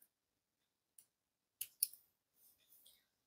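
Scissors snip off the thread tail on a beaded superduo necklace: a few short, crisp cuts spaced apart, close and quiet, followed by soft rustling of the beadwork.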